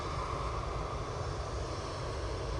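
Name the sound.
easyJet Airbus A320ceo departing to Alicante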